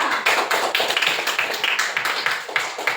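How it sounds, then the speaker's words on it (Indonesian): Group 2 of a classroom coding training session gets a round of applause, a steady burst of many hands clapping close by for about three seconds, with no talking over it. "Terima kasih aplaus untuk kelompok 2"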